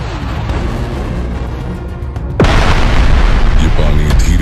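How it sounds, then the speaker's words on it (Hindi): Volcanic eruption explosion effect, a sudden deep boom that hits midway and leaves a loud sustained roaring rumble, following a quieter rumbling stretch. "पृथ्वी के भीतर से ज्वालामुखी लगातार फट रहे थे"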